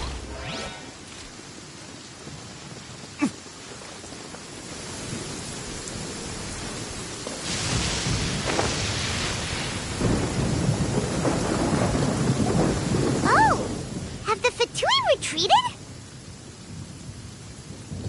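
A thunderstorm with rain in the video game Genshin Impact: a steady wash of rainfall under rolling thunder that builds in the middle, with sharp bright crackles of lightning near the end and no talking.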